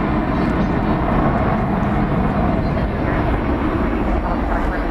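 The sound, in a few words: American Airlines Airbus A321 jet aircraft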